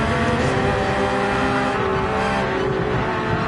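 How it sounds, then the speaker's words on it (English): Race car engine in Gran Turismo 7 revving loud and close as the driver drops into third and gets back on the throttle, a steady, harmonic-rich roar with pitch shifts throughout. "Drop into third, then back on the throttle."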